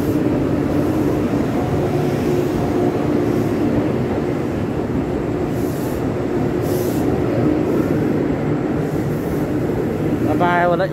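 Nine-car EMU1200 Tze-Chiang express, a red-and-white trainset, rumbling steadily through Changhua station with continuous rail noise and a brief high whine near the end; voices talk faintly over it.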